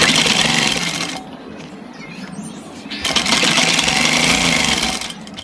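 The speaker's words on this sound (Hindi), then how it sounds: "इस तरीके से यहाँ पर छोटी सिलाई चलानी है आपको पक्का करके इस तरीके से" A sewing machine runs steadily while stitching the folded pocket edge of a kurta, with a fast, even mechanical rattle that pauses briefly mid-run and then starts again.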